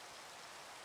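Rain falling in the video game Minecraft, a faint, even wash of steady patter with no voices, heard only for a brief moment.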